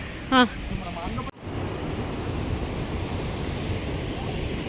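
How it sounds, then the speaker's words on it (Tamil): Waterfall on the River Tees in England, at Low Force or High Force, giving a steady, broad roar of rushing water that fills the whole clip after a brief voice and a short knock near the start. "இந்த அருவி சத்தம் கேட்குதுல உங்கள் எல்லாருக்குமே, இது வந்து டீ சைடு ரிவர்."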